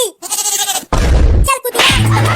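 A goat bleats in several loud, close, wavering calls separated by short pauses, with no talk over them.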